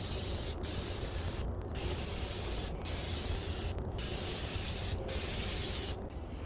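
A spray gun lays a second coat of paint on a Colorbond steel fence outdoors, making a steady close hiss broken into bursts by brief pauses as the trigger is released and pulled again.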